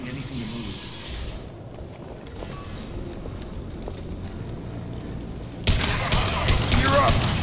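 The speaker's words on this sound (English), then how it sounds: "Blue Suns and Vorcha shooting anything that moves." Mass Effect 2 firefight on Omega, Blue Suns mercenaries and Vorcha shooting: a muffled, windy ambience under a voice, then a sudden loud cluster of sharp gunshots near the end.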